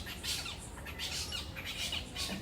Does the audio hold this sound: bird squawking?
yes